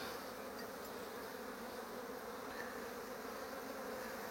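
Honeybees buzz at an opened hive during an inspection, a dense and steady close-up drone that holds without a break and has no voices over it.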